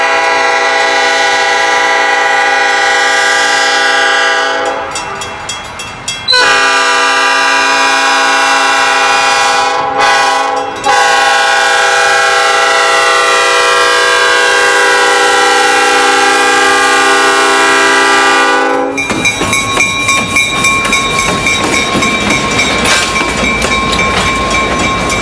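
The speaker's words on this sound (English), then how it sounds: "We shoot the train as it comes through a crossing just north of West Olive." A Michigan Shore Railroad train passes a road crossing north of West Olive, its horn blaring long, loud and steady with brief breaks, then the rolling clatter of wheels and cars takes over close by.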